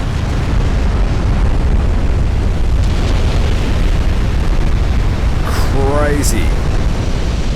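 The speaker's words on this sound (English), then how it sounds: "Yamashiro setting off the magazines on that light cruiser. All the turrets are popping off." Heavy, continuous rumbling booms as a light cruiser's magazines detonate in the naval warfare game Ultimate Admiral Dreadnoughts; a loud, unbroken low roar, with someone speaking briefly near the end.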